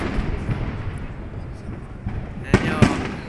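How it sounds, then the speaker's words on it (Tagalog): Fireworks bursting near a bridge, a couple of sharp bangs standing out late over a steady crowd murmur and rumble, with people talking throughout. "we're at the bridge watching the fireworks"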